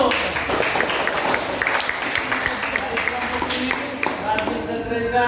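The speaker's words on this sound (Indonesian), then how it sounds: "Bagus, tepuk tangan dulu." Students in a classroom clap together in a steady, dense patter that lasts throughout, with voices mixed in.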